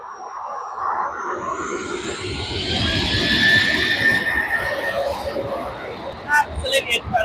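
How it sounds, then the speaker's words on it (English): A loud, broad roar of a 15-year-old Boeing 737's jet engines at takeoff builds and holds steady at Manchester Airport, with voices and crowd murmur mixed underneath and a few sharp clatters near the end. "Those engines sound fantastic."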